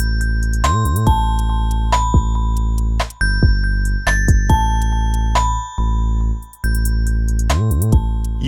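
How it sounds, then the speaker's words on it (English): A synthesized bell melody played in Logic Pro, with clear ringing tones struck one after another in a repeating tune, each note sustaining and decaying, loud and alone. "Usually bells work well for this kind of things."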